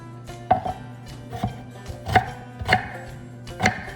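A knife roughly chops onion on a cutting board, with about six sharp, evenly spaced thuds close up and no voices.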